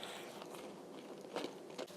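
Close, crisp crunching and biting into a cookie crunchy outside and soft inside, a few sharper crunches near the end, with no talking.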